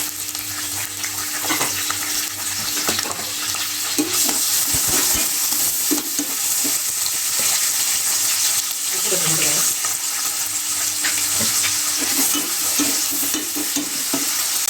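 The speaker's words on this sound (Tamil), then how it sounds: "வெங்காயம் நல்லா பொன்னிறமாக வதங்கட்டும்." Onions and green chillies frying in oil for tomato rice, a continuous sizzle with intermittent scraping and stirring clatter from a spatula, close and fairly loud throughout.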